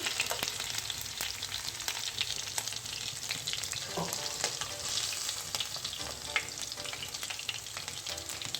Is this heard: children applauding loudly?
no